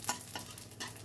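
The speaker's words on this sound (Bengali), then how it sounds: "এবার দিয়ে দিলাম 2খানা শুকনো লঙ্কা আর 1 টেবিল চামচ মতন 5 ফোড়ন দিয়ে দিলাম। একটু ভাজা ভাজা মতো করে নেবো।" Two dried red chillies and a tablespoon of Bengali five-spice frying in mustard oil: a soft, quiet sizzle with a few crackling bursts while stirring, no talking.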